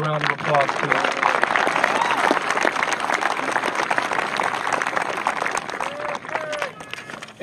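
Sustained crowd clapping at a 2014 high school graduation for two student award recipients, steady and fairly loud for about seven seconds with a few brief voices mixed in, tapering off at the very end.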